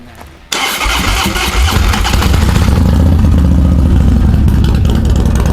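After a brief quiet moment, a modified Harley-Davidson Dyna Low Rider S motorcycle engine cranks and fires up into a loud, deep, throbbing idle that carries on close by.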